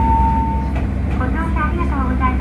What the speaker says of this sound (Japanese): 再び天原市駅からキハ47に乗車して高岡駅に向かいたいと思います。